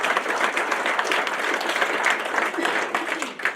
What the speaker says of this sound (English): Let's give our elected officials a round of applause.